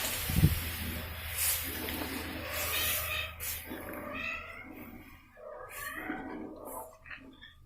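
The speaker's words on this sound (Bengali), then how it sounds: "এবার ডালটা ফোড়ন দিয়ে দেব।" Dal for a vegetarian shukto sizzles as it goes into hot tempering with fried bitter gourd and ginger: a sharp hiss at first, then softer bubbling and spitting that fade unevenly.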